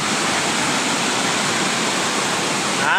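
Loud, continuous roar of rushing floodwater during heavy flooding in central Laos, a dense broadband wash that stays steady and close from start to finish, no talk.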